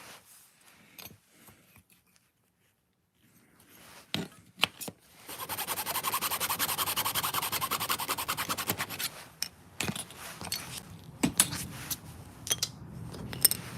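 A small handsaw cuts miniature wood trim in a miniature miter box, making a dense rasping back-and-forth sawing for about five seconds, with scattered clicks and handling knocks before and after.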